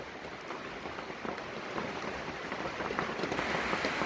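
Heavy rain falls in a dense, steady hiss of countless drops, continuous and even with no other sounds standing out.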